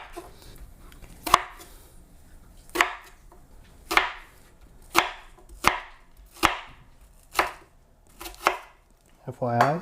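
A kitchen knife, noted as needing sharpening, chops ingredients for homemade shish kebab on a board, about nine sharp, evenly spaced thuds close up with brief gaps, ending in a short rustle.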